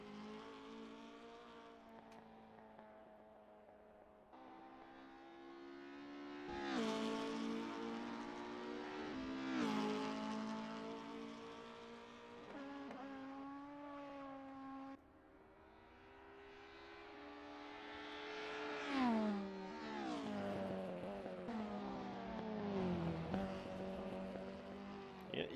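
British Touring Car racing engines roar through a video game race at Snetterton, rising and falling in pitch with each gear change, sometimes several cars layered together, loud and continuous.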